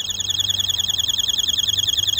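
A Walmart security tag alarm sounds a rapid, continuous high-pitched electronic beeping in a steady pulsing rhythm, close and alone without speech.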